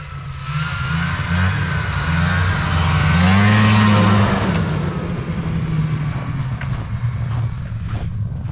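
An Arctic Cat snowmobile engine, a 440, revs hard outdoors, a loud sustained buzzing drone that swells to a peak midway and then settles back to a steady roar, with no talk over it.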